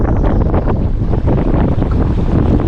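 Strong wind roars and buffets the microphone steadily throughout while pike fishing outdoors, a dense, rumbling rush with no voices.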